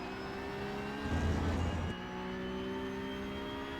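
A Porsche 911 Cup (992.2) race car in a racing video game accelerates out of a corner at Hockenheim, its engine note rising into a louder, rougher surge for about a second before settling back to a steady drone.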